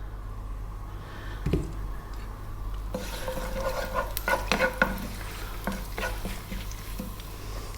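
Curry leaves and dried red chilies sizzle in hot oil for a South Indian fish curry, a faint steady hiss that flares louder near the end as leaves hit the pan, with scattered clicks of stirring.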